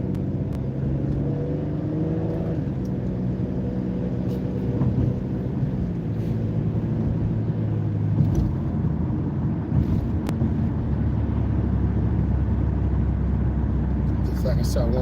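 A car pulls away during a beginner driving lesson: a low engine drone with shifting harmonics runs steadily throughout, nearly continuous talk rides over it, and there is some wind buffeting.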